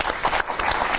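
A stage audience gives a child a brief burst of dense clapping, loud and close, filling the whole moment.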